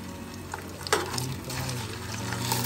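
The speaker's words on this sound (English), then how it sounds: "I expect a sizzle" Meatballs sizzling and frying in a pan, a steady hiss with soft stirring and scraping, close by and fairly loud.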